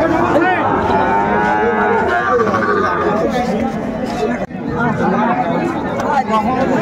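Young bull calves around four months old at Ambari cattle market in Dinajpur, mooing loudly several times close by over a busy background of crowd chatter and voices.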